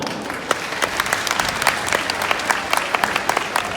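Steady crowd applause at Cavaliada Lublin 2019, an equestrian show with a 9th Lesser Poland Uhlan Regiment performance: dense, fairly loud clapping with sharper individual claps standing out throughout.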